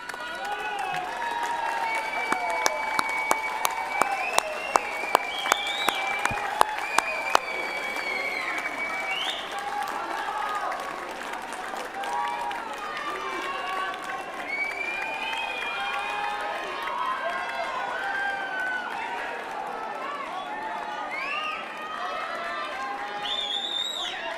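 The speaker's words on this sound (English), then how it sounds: "Please stand and show your appreciation by doffing your caps and giving them a round of applause." Graduation ceremony audience applauding in a large hall, a sustained wash of many hands clapping with scattered cheers and crowd murmur, steady and full for over twenty seconds.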